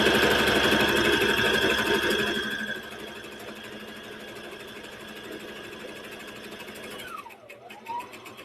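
Sewing machine stitching down a pillow seam, a steady fast whirring hum of the needle mechanism, louder at first then continuing more softly before a brief slowdown near the end.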